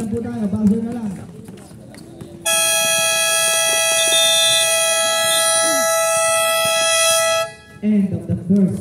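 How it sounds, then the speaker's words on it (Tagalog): A long, loud electronic buzzer sounds for about five seconds at the end of the first half of a basketball game, with crowd noise and an announcer's voice before and after. "Buzzer na lang po tayo. Buzzer na lang."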